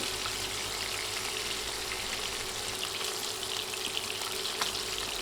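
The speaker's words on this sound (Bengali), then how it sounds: "উল্টে দিয়ে এপাশও দুই তিন মিনিট ভেজে নেব" Fish pieces fry in hot oil in a pan, turned to cook the other side, with a steady, even sizzle that runs throughout at moderate volume and no voices.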